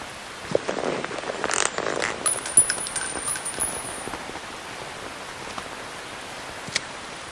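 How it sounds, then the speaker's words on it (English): Steady rain falls in the Metal Gear Solid 3 video game, a soft, continuous hiss with a few scattered light clicks and taps in the first half, fairly quiet and with no speech over it. "You can entertain me until the rain stops."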